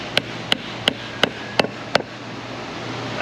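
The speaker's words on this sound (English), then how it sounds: "Hammer it down." Six sharp metallic hammer blows at an even pace drive a new wheel bearing seal into place on a Ford Ranger XLT 3.0 4x4, close and distinct over a quiet background hum.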